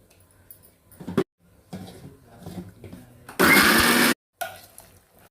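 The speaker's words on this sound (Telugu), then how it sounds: "ఇప్పుడు మిక్సీ వేసుకుందాం." A mixer grinder blends ridge gourd chutney with green chilies, ginger and small onions in one loud, steady whir of about a second that cuts off abruptly, preceded by clunks and rattles as the jar is handled.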